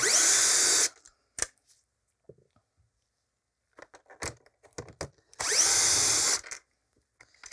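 A power screwdriver backs screws out of a Miele CX1 Blizzard vacuum, two close whirring bursts under a second each several seconds apart, with scattered clicks and handling knocks of plastic parts between them.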